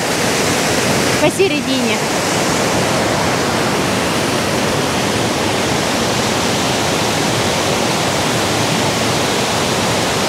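The Todtnau waterfall in southern Germany roars as a constant broadband rush of falling water, loud and unbroken, with a brief spoken word near the start.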